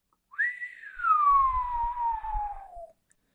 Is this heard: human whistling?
yes